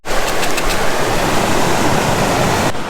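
A steep waterfall on a night hike roars in a dense, constant wash of rushing water, loud and close throughout with no voices.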